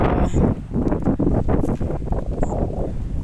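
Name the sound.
strong wind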